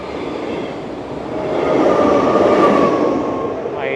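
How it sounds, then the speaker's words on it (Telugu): A train passes by in Switzerland, its broad rumble swelling toward a peak past the midpoint and then easing off, with steady rail noise throughout and no voices. "ట్రైన్ వెళ్ళిపోతుంది."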